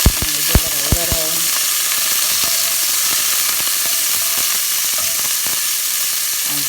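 Ground chili meat browns in hot oil in a pan, a steady broad sizzle with a few sharp spoon knocks against the pan near the start, then an even frying hiss running alone throughout.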